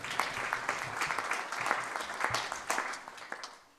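At the 20th anniversary celebration of a Hindu temple, an audience gives a round of applause, with a moderate crowd of distinct, crisp claps that rise and fall in small bursts before tapering off.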